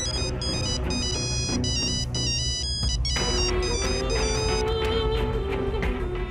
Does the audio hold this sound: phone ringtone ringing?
yes